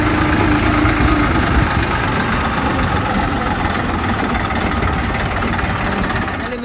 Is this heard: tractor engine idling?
yes